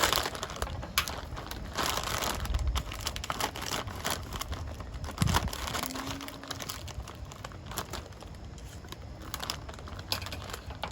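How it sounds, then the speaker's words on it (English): Crinkly plastic rustles and crackles close by for several seconds as a bag of frozen vegetables is handled and torn open, with faint crunching. "let's open a bag of frozen vegetables."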